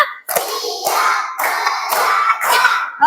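A class of children claps a rhythmic focus-clap chant, sharp hand claps in counted bursts with short pauses between groups, close and loud.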